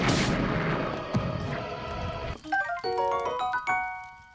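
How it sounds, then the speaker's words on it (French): An explosion from a bomb in The Legend of Zelda: Breath of the Wild sets off a loud, booming blast with a crackling tail, followed by bright chiming game tones ringing out alone. "Oh, des bombes!"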